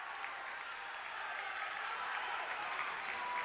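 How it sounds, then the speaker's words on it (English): Basketball crowd in a high school gym, Durfee vs. New Bedford boys game, applauding and cheering steadily after a made floater, a continuous dense wash of clapping and voices throughout. "This crowd is alive."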